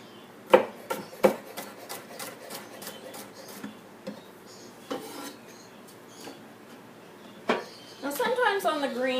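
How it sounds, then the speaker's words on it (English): Knife chopping greens on a board for a birdie breakfast: several sharp, irregular chops, some close together, with quieter scraping in between, and a voice talking toward the end. "And we'll chop the rest of this up."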